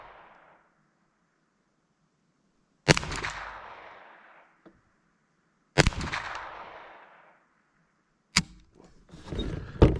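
Three sharp gunshots from a Ruger 22 Charger pistol at an outdoor range, each a loud close crack with a short fading echo, spaced a few seconds apart, followed by faint handling noise.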